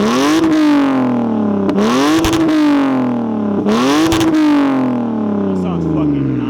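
A Lexus IS300 with a custom exhaust revving to 3,000 rpm: three loud, close throttle blips that climb sharply and fall away, with people talking over the engine.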